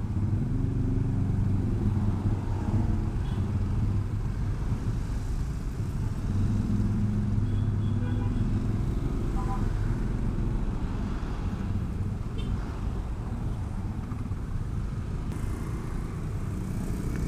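Stop-and-go traffic jam on a road in a steady outdoor roar of idling and creeping cars and motorcycles, heard from a Yamaha Lexi scooter, with wind rumbling across the microphone and no voices.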